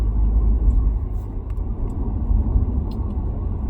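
Steady low rumble inside a car during a short roadside break, a dense continuous drone filling the cabin with faint higher hiss above it and no one talking.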